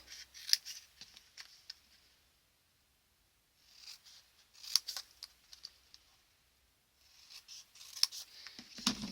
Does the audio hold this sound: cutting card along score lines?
yes